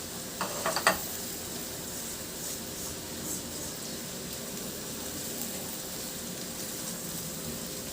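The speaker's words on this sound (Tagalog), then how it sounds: "Sa disim na kawali, igisa ko na yung sibuyas." Chopped onions and garlic sizzling in a hot pan, a quiet steady frying hiss with a few soft stirring clicks near the start.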